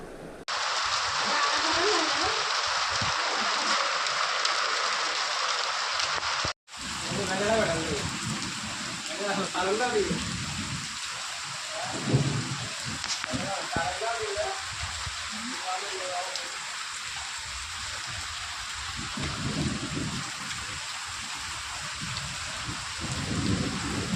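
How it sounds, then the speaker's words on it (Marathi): Steady heavy rain with hail pours down throughout, with a brief cut early on, and people talk faintly beneath the downpour. "पाऊस गारा पडल्यात"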